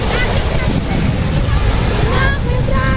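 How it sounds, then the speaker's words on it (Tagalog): Strong gusting wind buffets the microphone over a constant wash of choppy waves at the Dolomite Beach shore, loud and unbroken throughout. "Malakas ang hangin at saka medyo maalon-alon."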